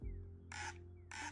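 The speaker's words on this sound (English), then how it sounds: "I hear birds" Two short, harsh crow-like caws from birds outside, faint and distant over a low hum.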